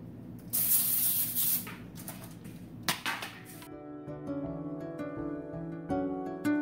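Cooking spray hisses onto foil-lined baking sheets in a few loud, close bursts, followed by faint clinks of handling with a musical background underneath.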